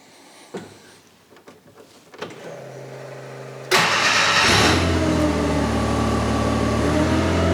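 A Cushman Truckster utility truck engine cranks and catches, settling into a steady loud idle after a few quieter clicks and mechanical rattles.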